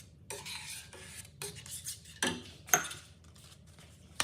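A spoon stirs milk into a pan of paneer curry, giving soft scraping and clinking strokes in a few separate bursts with quiet pauses between them, close and fairly faint, with no voices.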